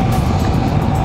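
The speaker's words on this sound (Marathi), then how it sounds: "आणि राईटने आपल्या आर्मीचे ट्रक जात आहेत." Indian Army trucks roll past on a mountain road toward Shimla in Himachal Pradesh, a steady, loud low engine rumble with road noise that holds unchanged throughout.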